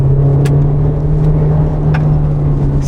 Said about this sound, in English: press the throttle a bit more enthusiastically and you start to realize that the HS actually makes quite a joyous sound